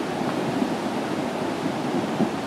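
Floodwater from a swollen river rushes close to homes, a steady, dense roar of churning water holding at one level throughout with no voices.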